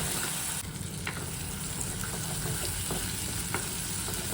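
Onion and masala paste sautéing in a pan for Kottayam-style fish curry, a steady moderate sizzle broken by occasional spatula scrapes.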